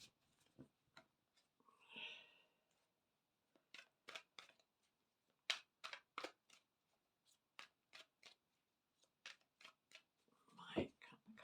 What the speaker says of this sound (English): So one more card, give it a shuffle.